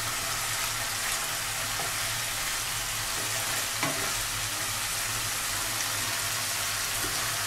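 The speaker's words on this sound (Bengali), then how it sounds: "মাছটা একটু দিয়ে নাড়াচাড়া করবো" Tilapia fish frying in a pan for a Bengali machher jhal, a steady close sizzle with a few soft scrapes of stirring throughout, no talking.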